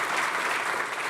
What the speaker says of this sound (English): Perhaps you could lend a round of applause,